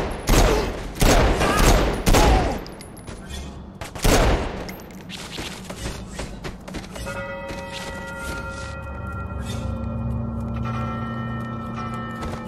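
Bursts of gunfire in the video game Saints Row 4, loud rapid volleys of shots in the first seconds that give way to a lower humming, ringing game background.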